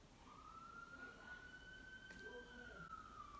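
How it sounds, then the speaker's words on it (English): A siren wails faintly in the distance, its single rising-and-falling tone drifting steadily outside over low background noise. "There go that siren."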